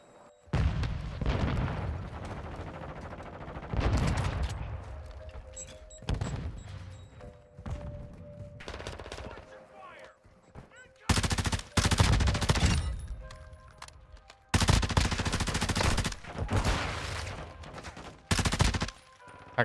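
Repeated bursts of video-game gunfire from a Tempus Razorback rifle, loud sustained volleys with short gaps, heavier clusters later on, and no talking over them.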